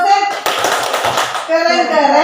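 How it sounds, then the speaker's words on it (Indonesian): Brief clapping from a small group at a school dissemination session, a quick burst of hands amid voices. "Sekali lagi beri aplaus, tepuk keren untuk Pak Hussein."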